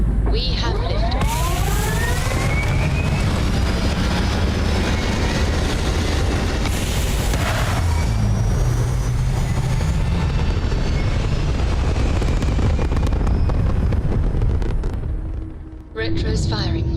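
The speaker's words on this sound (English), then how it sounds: "We have liftoff." A spaceship lifts off in the video game Starfield with a loud, sustained roaring rumble that holds steady for most of the stretch, then dips and trails off near the end.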